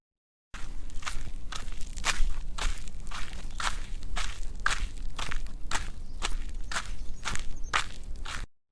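Children's footsteps walk deeper into a forest, a steady run of close, crunchy steps with a rustling texture, heard alone.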